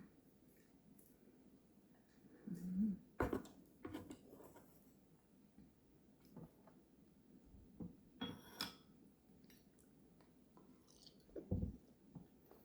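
Dim sum snacks are chewed close up, with quiet, irregular bites and soft squishy crunches scattered over several seconds against a near-silent room.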